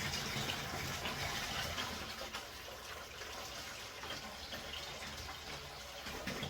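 Water gushes fast from an aquarium cleaning tool during a water change, a loud, steady broadband rush that continues without pause, with no talking.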